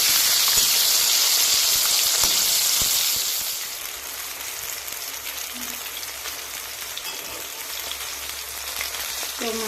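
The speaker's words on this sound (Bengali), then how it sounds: "মাছটাকে আরেকটি ভালো করে ভেজে নেই" Bhetki fish fries in hot oil in a pan, a dense, crackling sizzle that is loud at first, then settles into a quieter steady spatter with occasional pops.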